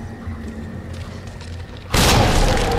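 A grenade blast in the Resident Evil 2 Remake game bursts in suddenly near the end, loud and broadband with a rumbling tail, after quiet ambient game background.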